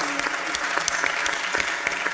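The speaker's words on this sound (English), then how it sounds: "Feel free to clap for that." Steady audience applause fills a hall at a national defense forum panel, dense and continuous with no talk over it.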